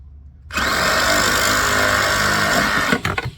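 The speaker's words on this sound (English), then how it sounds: "So I got my little Sawzall here, my little handy tool, and my cool tools. And we're gonna give this a cut real quick" A Sawzall reciprocating saw cuts through a PVC pole for a homemade camera pole, a loud, steady buzzing cut lasting about two and a half seconds, close up, ending with a few rattles.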